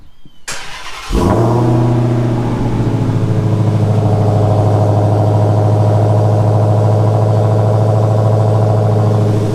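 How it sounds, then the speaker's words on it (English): A Dodge Demon cold starts with a short crank and a loud catch, then settles into a steady, deep, rumbling high idle, heard very close and loud throughout. "let's get this cold start going for you guys"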